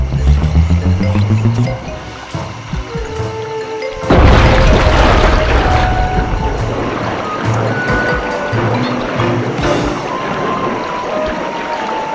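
In the Sly 2 video game, the Cherry Bomb 500 goes off with a sudden heavy boom, followed by a long roaring, rumbling wash of debris and noise that fades gradually.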